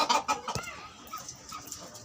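Chickens, including newly brought crested hens, let out several faint clucks and short calls in a quick irregular rhythm, with soft background noise.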